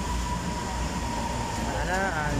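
An MRT metro train rumbles and hums steadily at a Manila station, with faint chatter and a rising whine as it comes in southbound toward Ayala.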